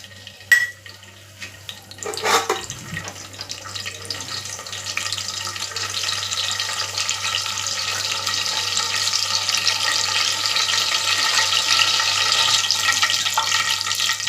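Pandan (rampa) leaves frying in hot oil with cardamom in a home kitchen, a couple of sharp knocks as they go in, then a steady hiss and sizzle that builds and holds close by.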